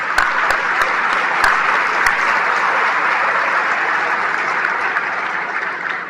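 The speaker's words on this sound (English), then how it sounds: "Let's give all these officials one more big round of applause." A large audience at a Texas State of the State address breaks into loud, sustained applause, dense clapping filling the room for several seconds without speech.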